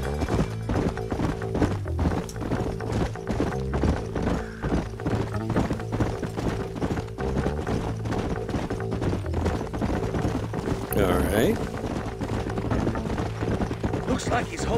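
Horses clip-clop steadily along a trail in the Red Dead Redemption western game, hooves thudding over a bed of music, with a brief neigh near the end and voices talking over the ride.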